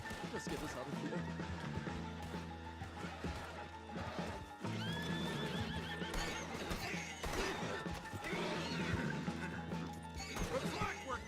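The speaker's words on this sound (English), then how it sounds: "Oh, that's our horses over there." Several horses whinny and snort in Red Dead Redemption 2 amid clattering hooves and crashing noises, with voices talking over the busy, loud scene.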